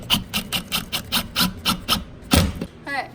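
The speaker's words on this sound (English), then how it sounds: "Now the objective is to screw from the outside of the container" Screws driven from the outside into a wooden storage container for a van kitchen, heard as a close, regular series of about nine short rasping bursts from a power driver, then a louder final burst.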